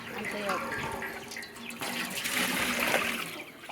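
Water pours and splashes into a vessel for cooking rice, with a gushing, tap-like flow that rises and falls over a few seconds, under nearby talk.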